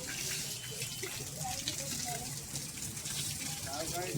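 Water gushes and flows steadily, a broad rushing wash that stays constant throughout with no clear pauses, heard from close range.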